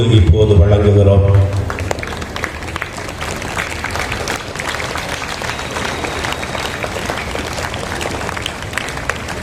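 Church congregation at a festival Mass applauds, dense crisp clapping carrying on steadily after a short opening of amplified voice, loud and close with a lively, continuous texture.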